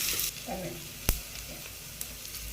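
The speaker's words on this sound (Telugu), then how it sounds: "ఆనియన్స్ జస్ట్ ఒక 2 మినిట్స్లో వేగిపోతాయి" Onions sizzle steadily in a hot pan while being fried for Andhra-style pappu pulusu, with a close, continuous hiss and one sharp clink of a spoon against the pan partway through.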